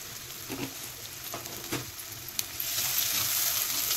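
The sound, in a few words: chana dal and turmeric being sautéed in a pan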